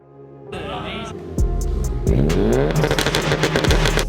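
2023 Subaru WRX engine revving, a rough rumble that rises in pitch through several climbing revs, loud and close, with a metallic clatter at the start.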